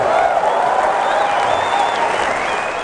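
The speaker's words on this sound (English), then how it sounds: "can you imagine people actually clapping when seeing the prices of their products?" An auditorium audience bursts into sustained, dense applause for Apple Power Mac G4 prices, a loud wash of clapping that holds steady and tapers slightly toward the end.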